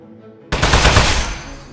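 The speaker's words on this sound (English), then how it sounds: "So shoot the metal." Gunfire in the video game Aperture Desk Job, aimed at a metal target: after half a second of near silence, a loud, dense burst of rapid shots starts and runs on continuously, slowly easing off toward the end.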